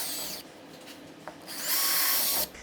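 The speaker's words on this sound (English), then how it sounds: "I'm gonna come back in with the drill and drill these pilot holes." A power drill drills pilot holes into a wall to install a leaning wall mount. It whines in two loud bursts separated by a quieter pause, with a brief click between them.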